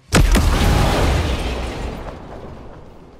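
A grenade goes off in the shooter Ghost Recon Breakpoint, one loud, sudden close blast with a sharp crack followed by a long rumbling decay that fades over a few seconds.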